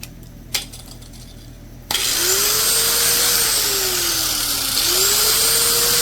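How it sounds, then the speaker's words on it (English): A loud, steady high-pitched grinding whine starts abruptly after a quiet moment, its pitch dipping and rising as the cutting wheel bites into metal. "So anyways, cutter wheel goes."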